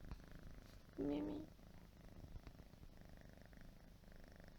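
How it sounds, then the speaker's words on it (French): A pet cat named Mimi purrs close up, a soft steady rumble running throughout, with a brief louder vocal burst near the start and someone speaking softly. "Vous l'entendez ronronner?"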